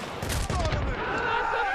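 Gunfire from a single-fire weapon in the Battlefield: Bad Company video game, a burst of loud shots and booms in a busy battle mix, with a voice speaking over it.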